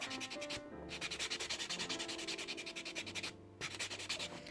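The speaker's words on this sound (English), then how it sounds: "Let's just buff over this nail." Nail buffer rubbed briskly back and forth over a fingernail during a nail tip and overlay treatment, a close, steady run of rapid scratchy strokes with two short pauses and no talk.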